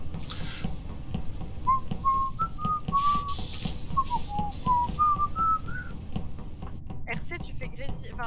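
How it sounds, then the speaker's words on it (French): A person whistles a wavering melodic tune of several held notes over a voice chat during an online game session, the sound slightly crackly, while others talk around it. "ça fait grésiller mes oreilles quand tu siffles"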